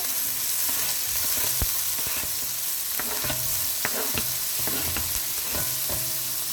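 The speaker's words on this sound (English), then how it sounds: "So now I'm gonna fry up some garlic, tomato, and some jalapeno pepper." Garlic, tomato and jalapeno pepper fry in a little oil for black beans, giving a loud, steady sizzle broken by repeated utensil taps and scrapes against the pan.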